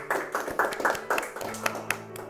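Applause from a small group at home, scattered claps and taps in an uneven patter for a couple of seconds, fairly close and light.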